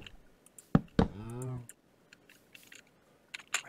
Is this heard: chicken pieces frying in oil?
no